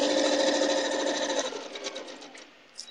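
A sewing machine runs steadily while stitching log cabin quilt pieces, a dense continuous whir that loosens into faster stuttering bursts and then stops, with a faint click at the end.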